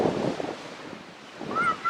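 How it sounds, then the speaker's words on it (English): Cold wind gusting at the beach, with rumbling buffeting up close and surf washing behind it. The wind swells, dips, then swells again. "It's cold because it's windy."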